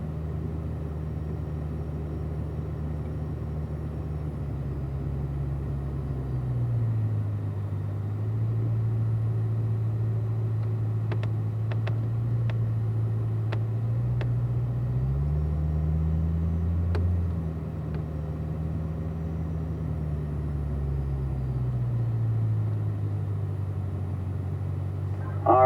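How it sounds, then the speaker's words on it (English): Several cars moving slowly in single file toward their parking spots, a steady low engine rumble that swells and shifts as vehicles pass close by, continuous throughout with faint clicks above. "We're going to get these cars parked right back in the same place we got them from."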